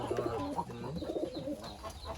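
Several pigeons coo softly in overlapping, rolling calls, close by and steady throughout, with no talking.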